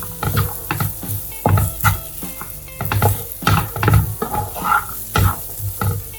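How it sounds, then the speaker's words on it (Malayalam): Fried chicken pieces stirred into a spiced masala in a pan for murtabak, with repeated scraping and stirring strokes over a soft sizzle, close and fairly loud. "ഇതിലോട്ട് നമ്മൾ ഫ്രൈ ചെയ്ത് വെച്ചേക്കുന്ന നമ്മുടെ ചിക്കൻ പീസസ് ആഡ് ചെയ്ത് കൊടുക്കാം. നന്നായിട്ട് മിക്സ് ചെയ്യാം."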